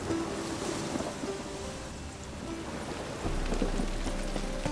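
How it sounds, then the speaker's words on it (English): Steady, dense rain storm in The Witcher 3: Wild Hunt video game, a continuous hiss of heavy rainfall with a low, surging roar beneath, with no voices over it. "The storm, damn it."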